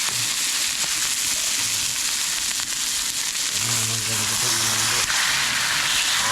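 Tarpon fish sizzles as it fries in oil, a steady hissing crackle throughout with a few louder bursts of spitting, while people talk nearby.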